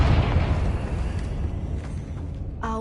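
A Confringo fire-blast spell explodes in Hogwarts Legacy, one heavy close boom whose deep rumble swells at once and slowly decays over a couple of seconds, then a brief voice at the end.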